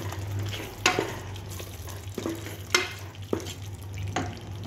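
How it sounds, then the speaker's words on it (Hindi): Roasted mutton with chopped coriander and green chilli being stirred in a pan, with a steady low sizzle and a few distinct scraping strokes at a regular pace, close up. "कोतमीर, हरी मिर्च कट करके रखा है, अब इसको हम मिलाएंगे।"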